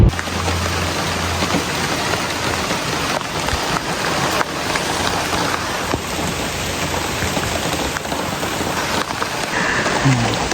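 A heavy rain downpour hammers down continuously, a dense, loud, steady hiss of drops on surfaces with no pauses and no voices.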